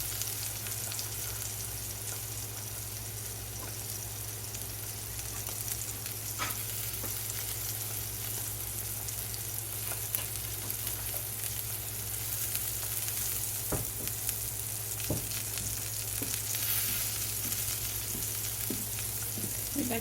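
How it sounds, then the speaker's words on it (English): Fish fries in a pan with a steady, close, continuous sizzle and crackle, with a faint background hum and no talking. "Let me back you up so you can see the fish frying there."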